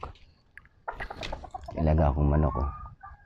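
Chickens cluck and squawk close by, with a long drawn-out cackle rising over the rest, and a voice speaking faintly beneath.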